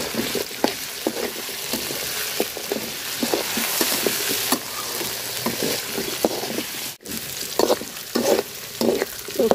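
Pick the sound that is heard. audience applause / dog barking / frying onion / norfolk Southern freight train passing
frying onion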